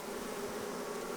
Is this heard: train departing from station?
no